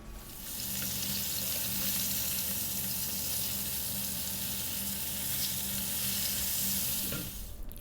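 Fish shallow frying in oil for a fish masala curry, a steady bright sizzle and crackle that holds evenly for several seconds before fading, with no talking.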